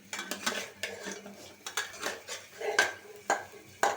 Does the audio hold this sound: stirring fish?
yes